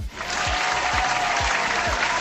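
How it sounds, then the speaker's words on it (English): A crowd applauds loudly and continuously, dense clapping that fills the whole moment, with a few low thumps underneath. "Round of applause for you guys."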